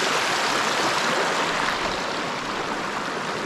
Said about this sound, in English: Running water and just hearing it.